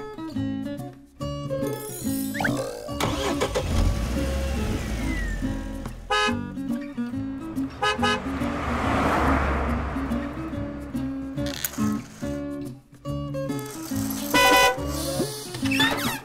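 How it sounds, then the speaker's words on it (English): A cartoonish car engine revs and several horn honks sound over bright toy-like music, loud and close, with beeping tones coming in bursts; no speech. "Car."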